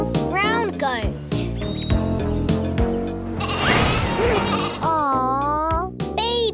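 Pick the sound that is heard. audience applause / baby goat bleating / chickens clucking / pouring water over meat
baby goat bleating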